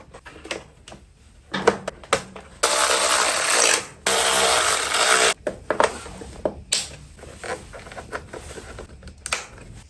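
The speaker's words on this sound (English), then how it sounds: "Now installing the side fairing." Side fairing going onto a salvaged, rebuilt Kawasaki Ninja ZX-6R: close plastic rubbing and clicking, a few sharp taps, and two sustained bursts of broadband rushing noise in the middle, with no talking.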